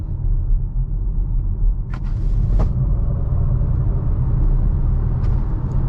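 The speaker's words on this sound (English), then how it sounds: "that is seriously fast acceleration" Inside a 2022 Volvo C40 Recharge electric car accelerating hard, a loud, constant low rumble of road and tire noise fills the cabin. A few faint, brief clicks sound over the rumble.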